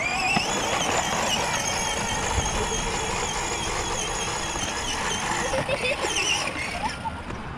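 An upgraded Power Wheels ride-on toy car drives along with a steady, continuous motor whine, running at high speed close by while people talk over it.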